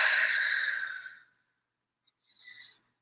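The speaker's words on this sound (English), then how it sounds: "Taking a couple of deep breaths in" A long, deep exhale during a calming breathing exercise, a close, airy breath out that fades over about a second, followed by silence and a faint softer breath.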